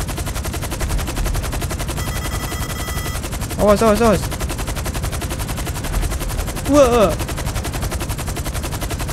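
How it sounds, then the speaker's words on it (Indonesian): Video-game gunfire in GTA 5 during an escape from a military base: steady bursts of automatic weapon fire run throughout, with two short shouted exclamations breaking in over the shooting. "Tiba-tiba ada tembakan dari belakang"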